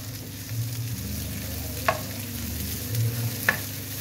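Finely chopped capsicum stir-fries in a pan with cabbage, a steady soft sizzle running throughout while a spatula knocks the pan twice with brief sharp clinks, close and without talk.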